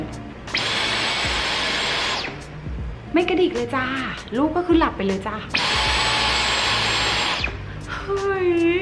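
A cordless handheld vacuum cleaner whirs in two sustained bursts, fairly close, with soft spoken commentary and a baby's small noises between the runs.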